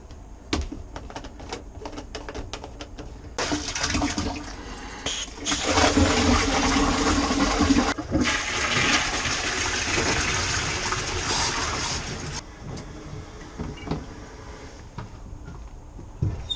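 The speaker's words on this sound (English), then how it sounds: "I rinse the holding tank out several times" Water gushing and splashing while a motorhome holding tank is rinsed out at an Elsan disposal point, a steady rushing flow swelling in the middle with clatters and knocks before and after.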